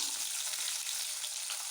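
Onions sautéing in a pan for dried fish curry make a soft, continuous sizzle with a faint crackle, steady and low in volume, with no talking.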